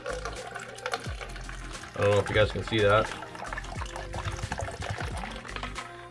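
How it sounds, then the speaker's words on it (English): G Fuel Good Guys tropical blood orange drink poured into a cup, a roughly one-second gurgling splash of liquid rising in pitch as it fills, close, with someone talking before and after. "We're going to take our cup here, and we're going to pour some of this in."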